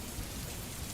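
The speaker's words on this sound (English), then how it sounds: "the rain pattered against the window pane" Steady rain patters against a window pane, a dense, even hiss of drops that stays soft and constant throughout with no voices.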